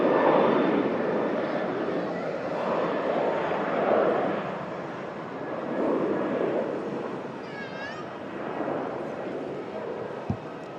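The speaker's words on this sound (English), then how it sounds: "Ryanair on the rollout to Dublin." A Ryanair jet bound for Dublin rolls out for departure with a steady, distant engine roar that swells and fades, a faint high whine briefly rising and a sharp tap near the end.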